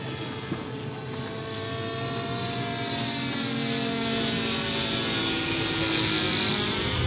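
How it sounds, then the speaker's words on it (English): A contra-rotating propeller model plane drones loudly and continuously with a pulsing, beating whine, the sweeping tones shifting as it passes close by. "those contra-rotating propellers making some very interesting noises"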